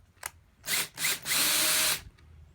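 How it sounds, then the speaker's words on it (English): A power drill bores a hole for mounting a trolling motor plate, whirring in two short bursts and then one longer steady run, close and fairly loud, with a faint click just before. "Okay, finish drilling the hole, takes a little pressure."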